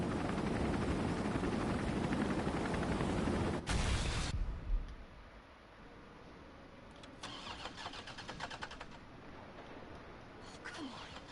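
A video game car in 1998 cranks loudly and repeatedly without catching for about four seconds, then falls to near quiet, followed by a few brief, fainter mechanical bursts.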